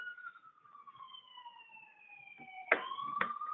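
An emergency vehicle siren passes by, with a wailing tone that sweeps down in pitch and stays faint and distant. Some soft knocks and handling noises come in near the end.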